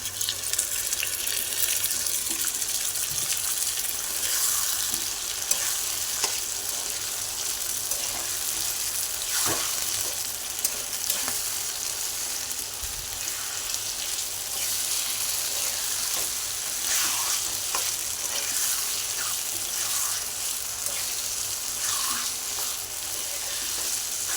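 Chicken liver added to browned onion and frying in a pan: a steady, rushing sizzle that holds evenly throughout, with a few faint knocks of a utensil and no voices.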